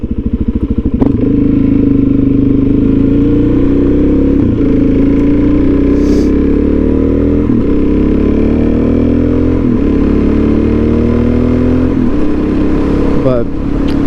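Suzuki DRZ400SM supermoto motorcycle running close and loud throughout, engine note rising and falling through several gear changes with brief dips at each shift, steady riding without pauses.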